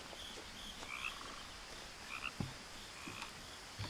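Ambient frog croaking from What Remains of Edith Finch, with several overlapping calls repeating at moderate volume over a low environmental hiss and no speech.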